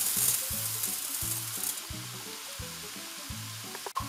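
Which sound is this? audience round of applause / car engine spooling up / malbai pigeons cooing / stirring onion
stirring onion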